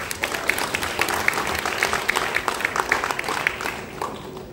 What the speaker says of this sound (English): I'd like to hear an applause if you agree with that.